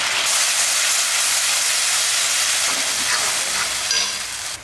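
Ground paste of two large onions dropped into a hot pan, a loud dense sizzle and crackle of frying that runs steadily throughout and tapers slightly at the end, with no talking.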